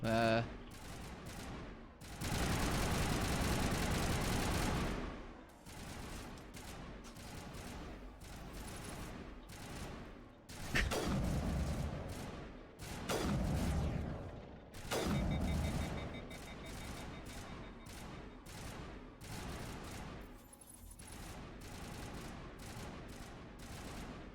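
Mass Effect gunfire rattles in several loud, sustained bursts separated by short pauses, with mechanical clicks and other game effects between volleys and talk mixed in.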